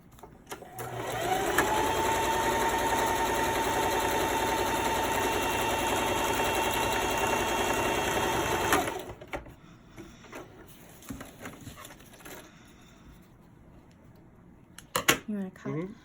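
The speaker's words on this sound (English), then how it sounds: "I'm just going to feed it through the machine and just like top stitch both ends" A sewing machine top stitches the ends of a reusable snack bag, running in a steady, fast, close mechanical whir for several seconds before stopping, followed by quiet handling noises and faint talk.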